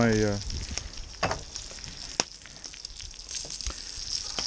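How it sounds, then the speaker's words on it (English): Food in a Panini press sizzles as a steady, moderate hiss at a tailgate, with a few sharp clicks and clatters over it and a brief tonal sound at the very start. "So I'm gonna open up the Panini press here."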